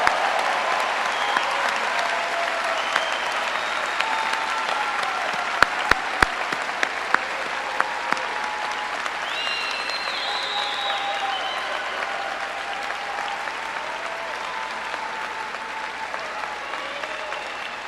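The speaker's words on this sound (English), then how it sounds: "a round of applause for our graduates." Sustained applause from a large crowd in an arena for graduates at a high school graduation, steady dense clapping heard from a distance with a few sharper nearby claps, no talking.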